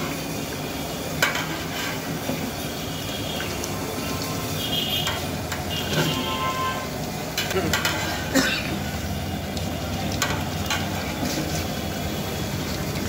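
Tehari cooking in a pot with a generous amount of ghee, a steady broad frying sizzle with stirring scrapes and occasional metallic knocks, fairly close and continuous; a voice speaks now and then over it.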